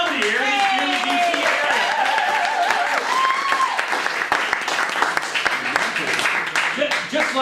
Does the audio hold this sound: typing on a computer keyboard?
no